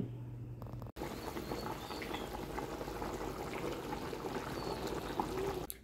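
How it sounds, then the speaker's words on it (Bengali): Beef and paya cooking in pots, a soft continuous bubbling simmer with faint crackles, steady and close with no voices. "এক হাঁড়িতে গরুর মাংস রান্না হচ্ছে আরেক হাঁড়িতে পায়া"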